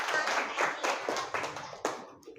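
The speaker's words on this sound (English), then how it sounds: "Give them claps." Children in a Standard II English class clap together after a rhyme, a brisk run of overlapping hand claps at moderate level, fading toward the end.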